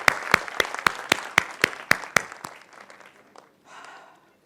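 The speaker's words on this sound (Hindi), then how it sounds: "इनको जोरदार ताली के साथ एक बार थैंक यू" An audience at an Atomy India felicitation event gives a round of applause, sharp distinct claps at first that thin out and fade, followed by a brief murmur of voices.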